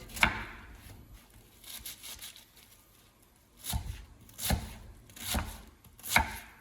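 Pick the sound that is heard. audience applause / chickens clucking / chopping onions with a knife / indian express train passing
chopping onions with a knife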